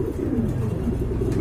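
A pair of pigeons cooing up close, with soft, repeated low throaty coos in a steady rhythm throughout the short moment.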